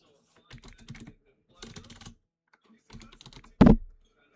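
Typing on a computer keyboard comes in three short bursts of quick, light clicks with gaps between, then ends in one louder thump. No voices are heard.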